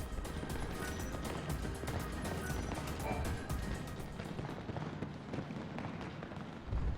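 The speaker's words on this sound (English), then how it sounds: "That should be plenty of fireworks." Fireworks burst steadily in a video game, a dense, continuous run of crackling pops and booms at constant loudness, with occasional voices in the mix.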